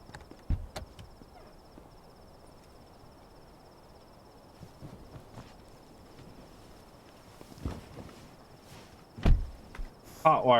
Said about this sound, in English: the crickets are actually cutting out